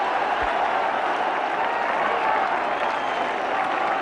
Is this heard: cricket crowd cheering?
yes